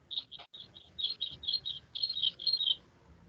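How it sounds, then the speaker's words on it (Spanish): A small bird gives a quick run of thin, high chirps, about a dozen in a row over a few seconds, faint and somewhat distant against quiet background. "Escucho un pajarito."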